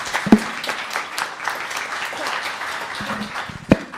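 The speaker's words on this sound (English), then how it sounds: "And one more round of applause for Corwin." An audience at a Los Gatos town council meeting gives Corwin another round of applause, sustained crowd clapping filling the room, with a couple of louder nearby knocks or thumps standing out over it.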